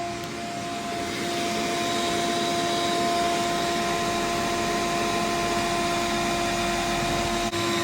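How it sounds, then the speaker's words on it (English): A shop vacuum roars steadily and loudly throughout beside argon welding, a constant motor whine with a low rumbling airflow and no pauses. "Is my vacuum sucking your argon out?"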